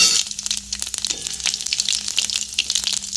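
Cumin seeds and a broken dried red chilli, with torn bay leaves, crackle and sizzle in hot mustard oil for a mung-bean dal with radish, a bright steady hiss with small pops throughout.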